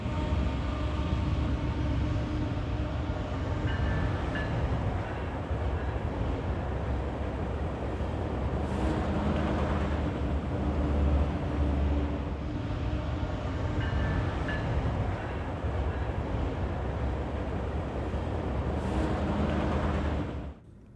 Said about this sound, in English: I caught this freight train in what ended up being a meet with an inbound Metrolink